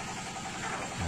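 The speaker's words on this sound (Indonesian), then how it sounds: "Kemudian kita mencoba tes pengeboran." A hydraulic well drilling machine runs during a drilling test, giving off a steady low mechanical engine drone with a slight rise near the end.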